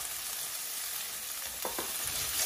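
Onions and garlic hit hot oil alongside cooked chicken for a chow mein and are stirred. A steady, dense sizzle fills the whole stretch, with a couple of brief scraping stir strokes near the end.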